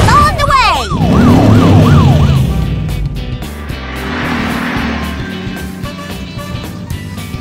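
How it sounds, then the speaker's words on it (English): Cartoon ambulance, fire truck and police car sirens wail in rapid rising and falling sweeps, loud and close, then give way to a rumbling vehicle-like drone. "Fire truck Louie is ready! Police car Paul, all set"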